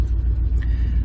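Small truck's engine idling as it warms up, a steady low rumble heard close and alone.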